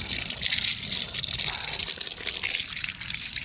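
Hot, high-pressure water sprays steadily onto an AGM X6 rugged phone during a waterproof test, a loud continuous gushing hiss close to the mic with no pauses.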